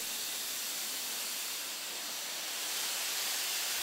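A South African Railways Class 15F steam locomotive, a 4-8-2 mountain type built in 1944 by the North British Locomotive Company, hisses steadily while being fired up, a continuous bright rush of steam that swells slightly toward the end.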